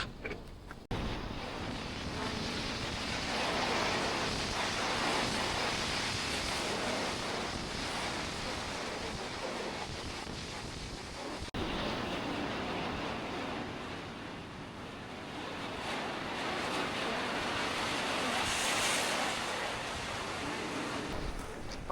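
Antarctic Ocean wind buffets a boat anchored off New Zealand, a continuous loud roar of wind and surf on the microphone that swells and eases slightly over about twenty seconds, with no speech.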